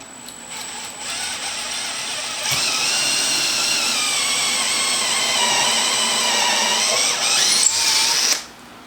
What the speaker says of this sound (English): So I am going to pre-drill the holes for this,